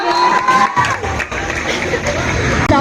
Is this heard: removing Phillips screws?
no